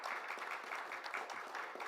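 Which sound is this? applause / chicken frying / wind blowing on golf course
applause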